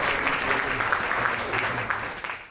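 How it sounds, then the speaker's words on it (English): Audience applause at a tech demo fair, steady dense clapping from a crowd that holds for a couple of seconds then tapers off. "Round of applause for Abil"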